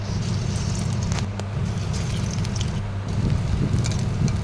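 Shrimp and lentil pakoras fry in hot oil in a continuous crackling sizzle with scattered sharp pops and spits, steady and close.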